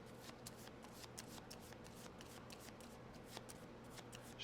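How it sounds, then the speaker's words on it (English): A deck of cards is shuffled during a board game, a soft, quick flutter of repeated riffles, faint and close. "And now Jean is going to shuffle."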